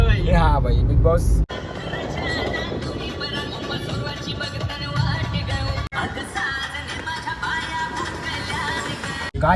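Steady road traffic rumbles throughout on a congested road near Karla during Navratri, with vehicles droning nearby while people talk over it.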